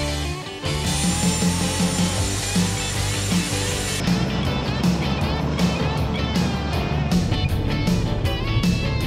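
Steady engine roar heard from inside a chartered private jet, a dense continuous drone with a tonal hum that shifts partway through, loud and close throughout.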